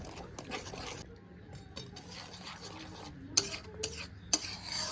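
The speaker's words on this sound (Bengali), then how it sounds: "ভালো করে একটু মিশিয়ে নেব" Yogurt and cashew paste being stirred into masala for a rohu fish curry, soft scraping and stirring with a few sharp utensil clicks against the vessel, fairly quiet and close, no talking.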